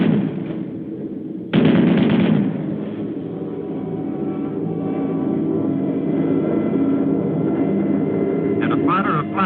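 Wartime aerial combat from a 1943 film: a sudden burst of gunfire and flak over a steady drone of bomber engines, under continuous narration.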